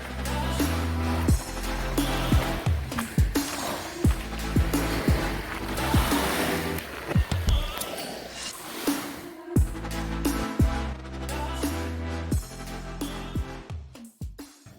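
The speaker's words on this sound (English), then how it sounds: "Getting on the boat and getting going." A fishing boat heading out for muskie pushes across water in Utah, with a steady engine rumble and washing, splashing waves and occasional thumps as the hull hits the chop.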